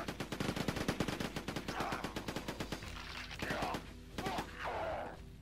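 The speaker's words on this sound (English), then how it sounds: "Love the machine gun." Machine gun fire in the PS1 first-person shooter Quake 2, a loud rapid stream of evenly spaced shots for about three seconds, followed by shorter bursts of noisy blasts and game effects.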